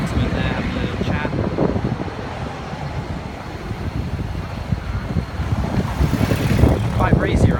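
Breezy wind outdoors at a city mall construction site in Kuantan, a steady rumbling buffet across the microphone with faint traffic-like noise underneath, growing stronger toward the end.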